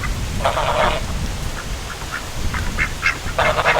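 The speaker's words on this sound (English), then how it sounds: "the ducks are back over here" Ducks quack in two loud bursts at the start and end, with scattered softer quacks between, over a steady low rumble of background noise.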